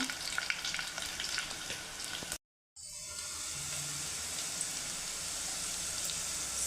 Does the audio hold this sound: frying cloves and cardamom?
yes